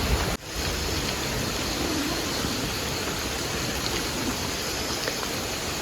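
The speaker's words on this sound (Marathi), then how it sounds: "सगळं ओला झालं पाऊस जाम आहे" Heavy rain pours steadily in a thick, unbroken rush of noise, close and even, after a brief jolt at the start.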